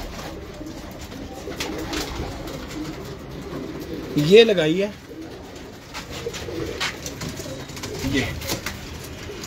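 Home loft pigeons cooing nearby with soft rolling calls, one louder coo in the middle, while a person talks intermittently.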